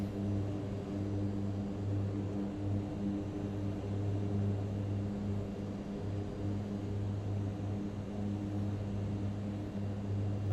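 Mitsubishi MU-2 turboprop settling to touchdown at full flaps on an airport runway lined with trees: a steady, loud, droning engine hum with strong low tonal bands holds constant throughout, no voices.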